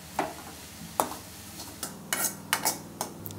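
A vegetable stir-fry of greens and pumpkin being stirred with ground coconut and chilli, a soft background sizzle broken by repeated scraping and clacking strokes of a spoon against the pan.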